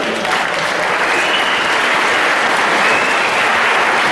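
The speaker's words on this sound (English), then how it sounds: "can you give them a round of applause to welcome them?" An audience at an Eskom year-end function applauds to welcome new employees, a steady, full wash of clapping for about four seconds with no break.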